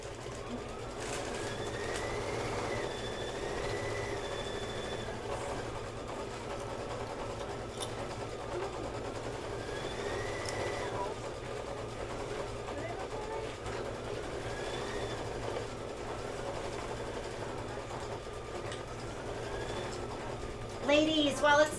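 An embroidery machine stitching out a boots design on a Halloween quilt block, a steady whirring, rhythmic mechanical hum running throughout under a voice talking to a group.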